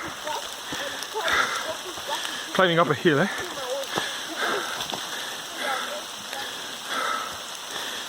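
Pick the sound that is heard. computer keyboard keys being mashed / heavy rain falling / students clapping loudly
heavy rain falling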